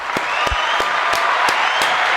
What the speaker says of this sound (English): Let's give them a round of applause for that one.